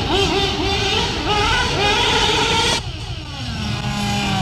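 Mugen MGT7 1/8-scale nitro RC car racing at a town-square exhibition, its small engine screaming at high revs with a steady whine that briefly dips as it changes pitch, loud and close.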